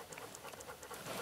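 Rapid, soft panting from a dog aboard a family paddle boat, steady breathy puffs close by with no talking.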